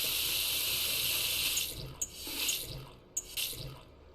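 Tap water pours steadily into a pot in the video game Cooking Simulator, a continuous hiss that thins into splashing and a few sharp drips near the end.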